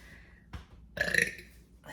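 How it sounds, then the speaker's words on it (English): A single loud burp erupts from a man mid-conversation in a podcast studio, preceded by a brief throat sound, with a short breath or voice fragment trailing at the end. "I got to burp."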